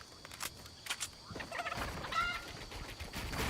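A chicken in the Fortnite video game clucks and warbles in a short run of calls over steady game background noise during a competitive solos match.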